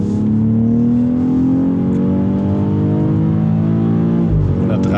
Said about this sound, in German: Also geht echt schon wirklich gut nach vorne für so einen großen Wagen hier.